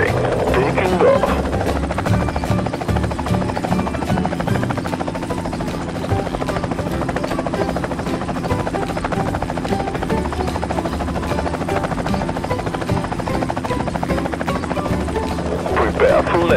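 Helicopter rotor and engine drone steadily in a children's construction video game, a loud continuous buzzing whir that holds throughout, with occasional game sounds over it.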